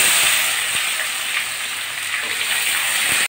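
Chopped onions dropped into hot oil with whole cumin and a bay leaf, a loud, steady hiss of sizzling frying that holds evenly before cutting off abruptly.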